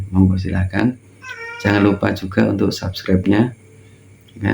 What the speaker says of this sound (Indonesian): Ada kedengaran suara kucing ya tadi, itu kucing saya gitu ya.